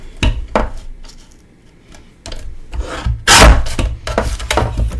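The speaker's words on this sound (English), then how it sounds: "I'm bringing in my Tim Holtz trimmer," A Tim Holtz paper trimmer slides its blade across card stock, giving a few short scraping rasps in bursts, with a louder, longer cutting stroke near the end.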